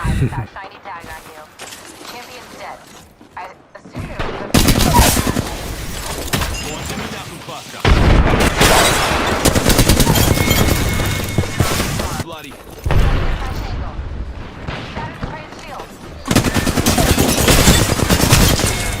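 Dense bursts of rapid automatic gunfire with explosive thumps in Apex Legends, loud and sustained, broken by a few short quieter lulls.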